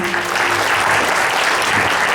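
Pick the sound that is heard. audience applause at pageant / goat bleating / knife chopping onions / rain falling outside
audience applause at pageant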